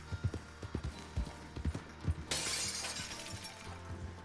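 A horse's hooves clip-clop at a steady walking rhythm in the video game Red Dead Online, up close and distinct, before a sudden bright crash of breaking glass cuts in.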